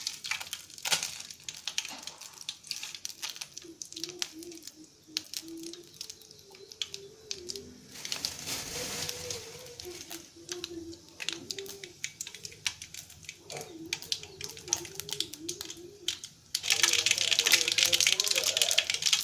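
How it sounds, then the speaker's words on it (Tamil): Mustard seeds dropped into hot oil while cooking brinjal thokku: a person talks over quiet kitchen clatter at first, then a loud burst of dense crackling and spitting fills the final seconds. "இப்போ எண்ணெய் காஞ்சிருச்சு இப்போ நம்ம வந்து கடுகு போடலாம்"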